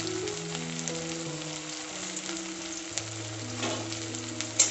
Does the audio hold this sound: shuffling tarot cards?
no